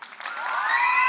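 An audience starts clapping for the negative team at a senior debate showcase, with scattered claps quickly swelling into fuller applause across the hall.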